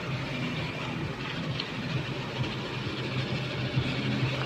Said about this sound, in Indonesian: sekarang mari kita lihat dalam mesinnya seperti apakah suaranya